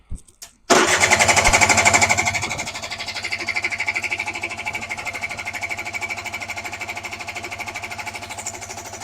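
Suzuki LT80 quad's small engine catching after a brief crank, then revving loudly before dropping to a steady, close, buzzy idle.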